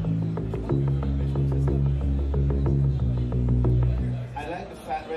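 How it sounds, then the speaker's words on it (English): A synthesizer played without its Moog filters, demonstrated at a Musikmesse 2014 trade show booth, produces a thick sustained low droning chord with rhythmic pulsing, loud and close, ending with a brief stretch of background crowd chatter. "on this synth, actually, the synth without the Moog filters sounds like this"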